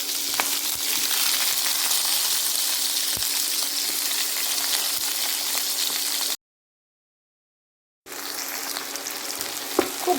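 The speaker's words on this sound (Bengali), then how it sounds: "খুব ভালো করে ভেজে নেব আর গ্যাসের ফ্লেমটা একটু লো করে দেবো" Sliced onions fry in a hot pan with a steady, bright sizzle and occasional stirring scrapes, close and continuous, broken by a brief total silence before the crackling resumes.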